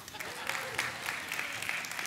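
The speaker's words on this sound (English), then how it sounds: "Please applaud Vanna White." Clapping from a church congregation during a sermon, an even patter of many hands at moderate distance, fairly soft, with a voice speaking over part of it.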